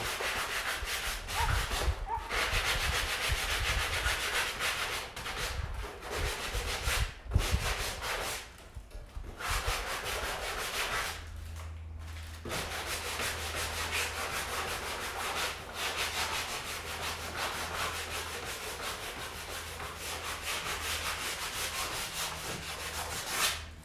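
Sanding by hand to distress a painted art piece, with a steady scratchy rubbing that runs nearly the whole time in close, even strokes and only a few short pauses.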